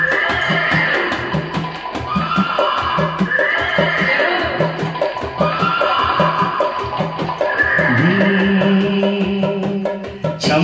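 A yellow mare whinnies loudly several times over a steady galloping beat of hooves, up close, with a long drawn-out neigh near the end.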